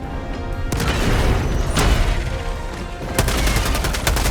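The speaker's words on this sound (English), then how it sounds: "Throwing grenade!" Grenade blasts and surrounding gunfire in Helldivers 2, a dense loud barrage of booms and rapid shots, with sharp broadband bursts near the middle and again toward the end over continuous combat noise.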